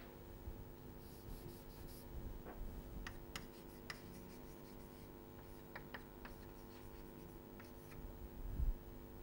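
Pen or chalk scratches during a lecture, faint intermittent strokes and taps in short bursts over a quiet room hiss, close by and steady.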